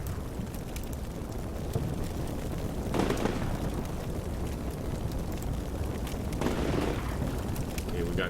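Distant gunfire and heavy booms from the video game Combat Mission Shock Force 2 roll through a steady battlefield rumble, with two stronger blasts standing out a few seconds apart.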